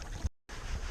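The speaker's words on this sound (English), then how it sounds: "You can hear the peaceful water behind me." Water washes steadily near a sailboat under a wash of wind noise, with a brief dropout to silence partway through.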